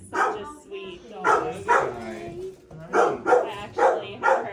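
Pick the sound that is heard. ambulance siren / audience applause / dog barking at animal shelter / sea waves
dog barking at animal shelter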